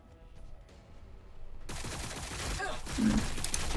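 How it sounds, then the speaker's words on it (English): Sustained volleys of gunfire in the Warhammer 40,000: Battlesector strategy game, starting after a quieter moment and building into a dense, continuous rattle of shots. "We're taking fire."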